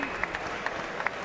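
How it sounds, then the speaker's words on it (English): Brief, faint crowd applause at a British 135lb title boxing match, a soft steady patter with a few sharper claps over murmuring. "You both deserve a massive round of applause for what you've done for the fight game tonight."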